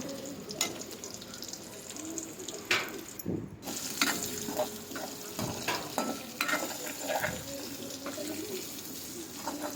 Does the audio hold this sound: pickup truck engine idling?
no